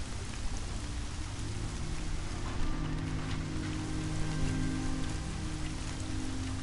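Steady rain falls in the Horizon video game, a dense, even hiss of drops on surfaces with a low rumble beneath, holding at a constant level throughout with no voices.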